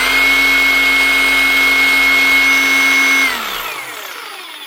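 A Hikoki DH40MEY2 demolition hammer runs with its button locked on, giving a loud, steady motor whine for about three seconds, then the pitch drops as it spins down.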